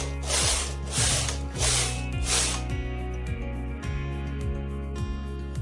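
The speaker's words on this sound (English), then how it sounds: "Switch to waste yarn and knit a few rows to take it off the machine." A knitting machine carriage runs back and forth knitting rows of waste yarn, loud mechanical whirring and clacking passes with a rhythmic, gear-like ticking underneath, close and continuous.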